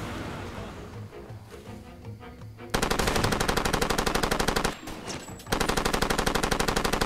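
Automatic gunfire in the video game Far Cry 2: rapid machine-gun bursts, a brief lull, then a loud sustained stream of shots, a short break and another fast burst, close and harsh.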